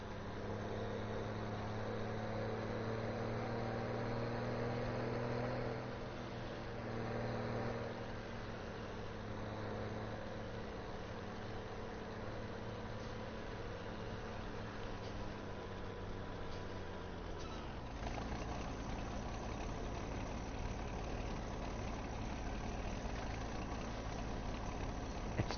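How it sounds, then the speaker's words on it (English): A tractor engine in Farming Simulator 17 drones steadily at a low idle, rising slightly in pitch, then dropping and settling into a rougher, steady rumble, with no voices. "you know the rev and the noise of this tractor, so, and you'll be hearing a lot of it in this series"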